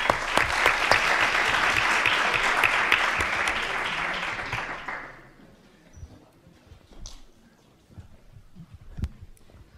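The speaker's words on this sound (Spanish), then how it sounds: "Yo quiero un aplauso para este señor" A live debate audience breaks into loud, dense applause for about five seconds, then it cuts off abruptly, leaving quiet room noise and a few scattered knocks.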